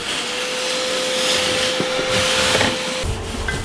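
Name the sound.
vacuum cleaner sucking shaving cream from flooded car floor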